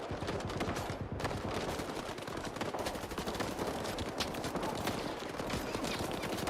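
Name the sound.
gunfire in video game S.T.A.L.K.E.R. 2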